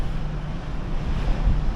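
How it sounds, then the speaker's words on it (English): Steady wind rushes and buffets against the microphone, a low continuous roar with no voices. "it's getting a bit windy"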